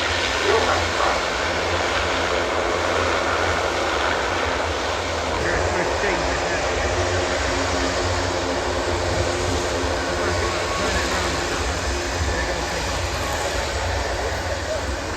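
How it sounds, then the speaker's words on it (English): A German Air Force Airbus A400M Atlas turboprop taxis close by, its engines giving a loud, steady, broadband roar that holds without pause. "the crew of the German Air Force Airbus A400M taxiing by Lieutenant Colonel Gunnar Kraft"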